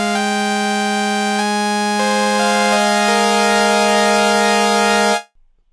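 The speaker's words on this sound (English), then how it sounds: "Default sound of Massive X sounds like this." Massive X synthesizer playing its default raw oscillator patch: a harsh, buzzy, harmonically rich sustained tone with notes stepping through a few pitches over a held low note, loud and alone, cutting off abruptly near the end.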